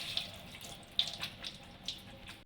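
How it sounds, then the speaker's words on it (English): Strained penne pasta being rinsed under a running kitchen tap, a faint steady trickle of water with a few soft splashes and clinks as the pasta shifts, close and quiet. "I am going to wash the pasta in the running water"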